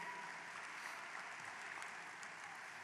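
A large audience at a high school graduation ceremony claps steadily, a dense, even wash of applause heard from a distance and at low volume throughout.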